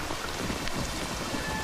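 Steady rain pours down in a brief, even hiss of drops striking surfaces, close and continuous, with no voices heard.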